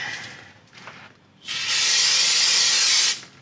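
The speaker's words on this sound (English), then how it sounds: "A little brake cleaner." A loud, steady aerosol spray of brake cleaner hisses for about a second and a half, close by, after a couple of shorter faint sprays, during parking brake work on a Ford F-150.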